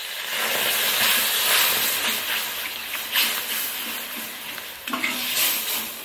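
Mustard-paste rinse water poured into a pan of rohu fish curry, a steady loud hiss and sizzle of liquid hitting hot oil, with a few louder bursts of bubbling and stirring throughout.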